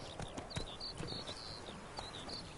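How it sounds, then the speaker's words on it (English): Horse hooves clip-clopping in The Witcher 3, a steady walking rhythm drawing nearer over a busy game background with faint high chirps. "There's my damn horse. Finally, the little fucker's coming."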